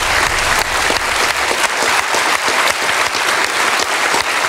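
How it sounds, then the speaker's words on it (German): A studio audience on a Swiss entertainment show breaks into loud, sustained applause, a dense wash of many hands clapping steadily with no speech over it. "es gibt noch einen Applaus für unser Studiopublikum"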